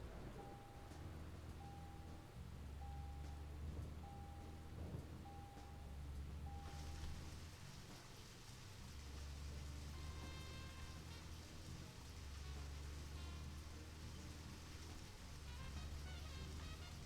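Steady rain pours in the video game Deadly Premonition, a constant soft hiss that carries through the whole stretch alongside faint tonal game sounds, with no talking.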